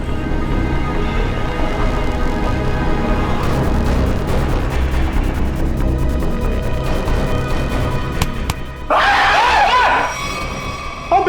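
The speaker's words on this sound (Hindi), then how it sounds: "लड़की की तरह चीखता क्यों है?" Amid a loud, rumbling dramatic soundtrack in a crime-drama scene, a man lets out a sudden, sharp scream near the end, brief and piercing above the din.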